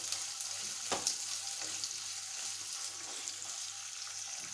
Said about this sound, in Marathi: आता कांदे तेलामध्ये छान परतून घ्यायचे